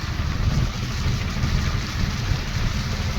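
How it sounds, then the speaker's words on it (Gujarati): Heavy rain pours during flooding in Dindoli, Surat, making a loud, continuous roar of water hitting the surface with a deep low rumble underneath. "ત્યાં વરસાદ ચાલી છે બરોબરનું"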